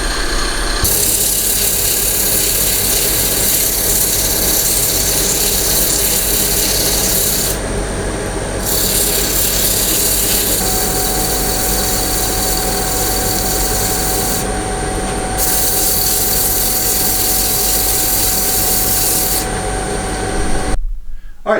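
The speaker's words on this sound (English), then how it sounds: "so now I just have some sanding to do to it" A wood-turned box spins on a lathe while being sanded, producing a loud, continuous rasping rub with a few brief dips in intensity, the steady motor hum underneath until it stops near the end.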